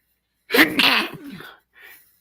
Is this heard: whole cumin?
no